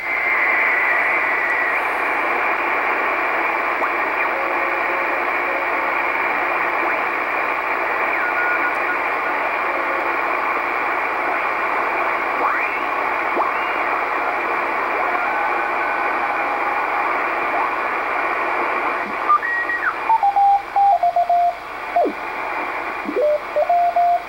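An Icom IC-R8500 receiver sweeps across the 80 meter amateur radio band, giving a steady hiss of static and noise with drifting whistles and tones, then a burst of choppy tuning chirps near the end.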